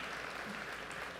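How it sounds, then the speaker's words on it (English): Audience applause, a steady wash of clapping that is faint and brief and continues without a break. "round of applause for everybody"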